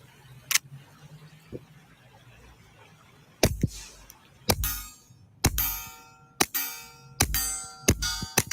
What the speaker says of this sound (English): All right, that's a suppressor. That's actually very quiet, right?